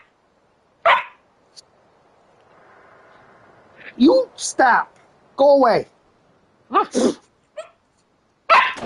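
A feisty puppy about three and a half months old gives several short, sharp barks and yips close by, interleaved with a person speaking to it.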